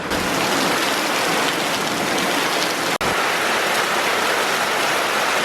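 Steady rain falls outdoors beside a freshly dug Dakota fire hole, a dense, even hiss of drops on the ground that runs unbroken and fairly loud, with one brief dropout midway.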